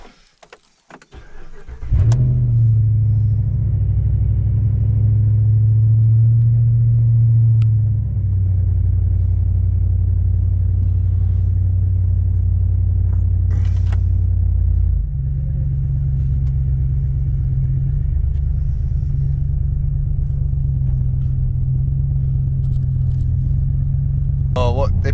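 A 2016 Ram Hemi truck engine cranks and fires after a short quiet moment, then settles into a steady, loud, close low rumble that holds throughout, with a slight drop in pitch partway through.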